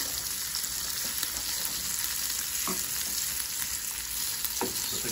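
Bitter melon fries in a pan with garlic and salt, a steady, close sizzle and crackle of hot oil with occasional stirring scrapes and no talking.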